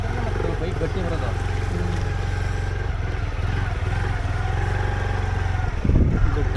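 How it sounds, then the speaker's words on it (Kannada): A motor engine drones steadily and fairly loudly throughout, a low constant hum that swells a little near the end, with faint voices underneath. "ಬೈಕ್ ಗಟ್ಟಿ ಬರೋದು"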